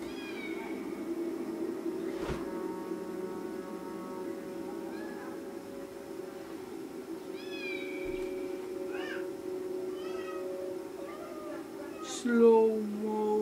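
Kitten meowing in the Harry Potter and the Philosopher's Stone game on PS1, several short rising mews scattered over a steady musical game soundtrack, fairly clear and close.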